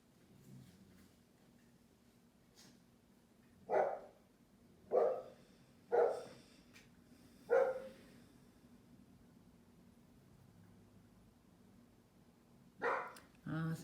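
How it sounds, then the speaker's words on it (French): A dog barks about five times in spaced single barks at moderate distance, standing out over a quiet room-tone background. "J'entends le chien qui aboie."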